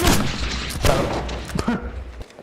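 Video game combat with a frag grenade blast and bursts of gunfire, loud and close in a dense rapid sequence of sharp bangs and booms.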